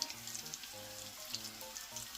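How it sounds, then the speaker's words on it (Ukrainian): Steady crackling sizzle of meat patties frying in hot oil over medium heat, with soft pops scattered throughout and faint low tones underneath. "Спочатку на першій стороні смажимо котлети на середньому вогні"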